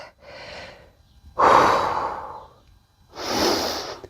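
Three slow, deep breaths are drawn and released during a strength and mobility workout, each a soft, airy rush at close range with quiet pauses between, and no talking.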